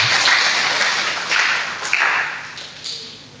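Crowd applause with clapping at a church morning service, fairly steady and dense, swelling in a few bursts before tapering off.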